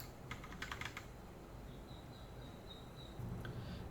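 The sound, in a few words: typing a password on a computer keyboard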